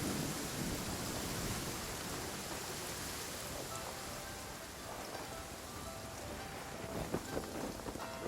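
A video game thunderstorm in Genshin Impact pours dense, steady rain under continuous low rumbling thunder, a loud unbroken wash of noise with no voices.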